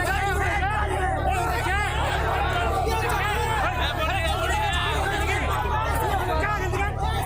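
A dense, chaotic crowd fills a street in Kharagpur during a political visit, people quarrelling and shouting over one another in a constant loud babble with no pauses.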